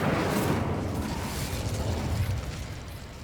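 A fiery Incendio spell erupts in Hogwarts Legacy with a dense, roaring burst that stays loud and gradually fades over a few seconds.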